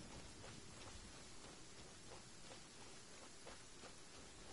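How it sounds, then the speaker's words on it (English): Steady rain falls in the Genshin Impact video game, a constant dense hiss of drops with no pauses throughout. "So it's now raining right outside where I'm at,"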